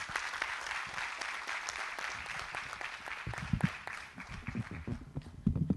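Faint, distant applause fills a conference hall for a presenter, a continuous wash of clapping with a few louder, nearer claps and low thumps toward the end.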